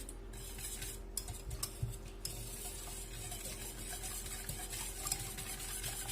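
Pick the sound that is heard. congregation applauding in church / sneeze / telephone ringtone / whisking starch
whisking starch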